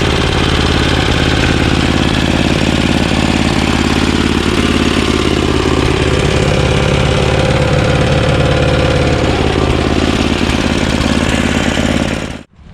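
An Ariens 524 two-stage snowblower with a 5 HP Tecumseh engine idles steadily and loudly at close range, a constant rough mechanical chug that runs without a break until it cuts off abruptly at the very end.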